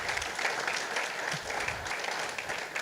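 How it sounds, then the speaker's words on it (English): Audience applause for a lecturer at a public lecture on whether today's education is relevant: dense, steady clapping from a crowd that fills the whole stretch at an even level, with no voices standing out. "I want us to really give a big hand of applause to our lecturer"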